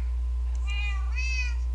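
Cat meowing from Minecraft, a video game: a pair of drawn-out, high synthetic meows in quick succession over a steady low hum, with no talking.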